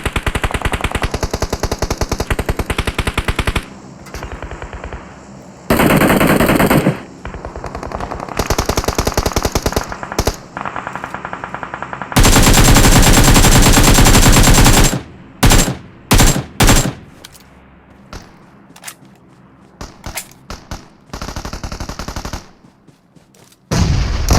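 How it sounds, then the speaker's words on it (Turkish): Rapid automatic gunfire in the PUBG Mobile battle royale game, loud bursts of machine-gun fire alternating with single sharp shots and short gaps, close and harsh throughout. "bana sıkıyorlar"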